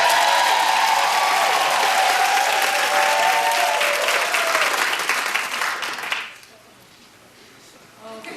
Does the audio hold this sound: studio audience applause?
yes